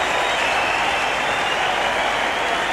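Sustained crowd applause at the Sydney Cricket Ground following a boundary in an Australia versus Pakistan one-day cricket match, a dense, loud, even wash of clapping lasting throughout.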